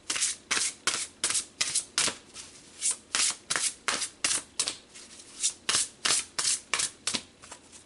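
Tarot cards are shuffled in a steady run of quick, crisp riffles and slaps, about twenty bursts in a row, close and fairly quiet, with no talking.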